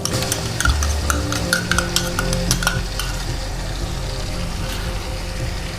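Ginger garlic paste fries with browned onions in a pan for a white brinjal rice dish. Loud, steady sizzling goes on throughout, with a burst of spoon stirring near the start and a low hum underneath.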